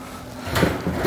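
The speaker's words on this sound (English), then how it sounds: "Get this door open," An armadillo live trap's door is pulled open, giving a short metallic clatter that builds near the end, close by, with no talk over it.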